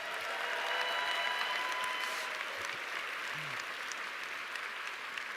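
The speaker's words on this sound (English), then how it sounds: "Give them a huge round of applause." Sustained audience applause at a theatre event at Playhouse Square, held for the theatre team. The clapping is dense, steady and loud for the whole stretch, with no talking over it.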